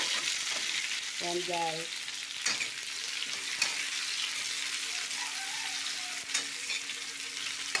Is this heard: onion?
yes